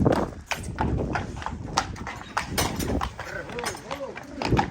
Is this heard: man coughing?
no